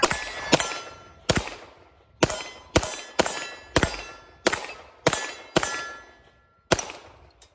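Springfield SA-35 pistol fired at small steel targets outdoors on a range, ten sharp gunshots in an irregular rapid rhythm, each with a bright metallic ring from the struck steel that decays between shots.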